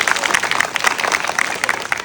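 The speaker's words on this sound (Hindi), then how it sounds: "ताली बजाओ, और जोरदार ताली बजाओ।" A group of schoolchildren claps in a government school, a dense, lively burst of applause close by that runs through the whole short moment, with a few voices under it.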